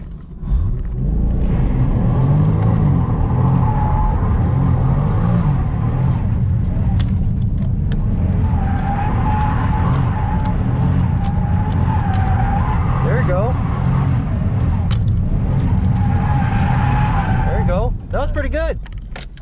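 Car drifting in circles during a beginner drift lesson, loud continuous engine roar with rising revs and intermittent tire squeal, close and constant throughout.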